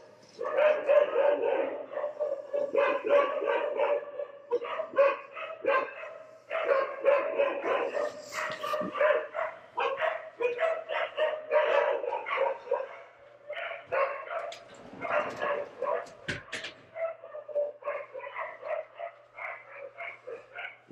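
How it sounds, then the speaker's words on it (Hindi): Several dogs bark nonstop for about twenty seconds, a dense run of overlapping, rapid barks at steady loudness with only brief pauses, sounding fairly close. "यार कुत्ते कितना भौंकते हैं।"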